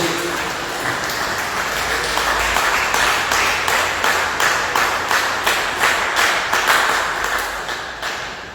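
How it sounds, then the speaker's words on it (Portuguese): Steady, loud applause from a church congregation, with rhythmic clapping building into a regular beat and continuing throughout before easing slightly at the end. "quem pode dar uma salva de palmas bem alegre para Jesus"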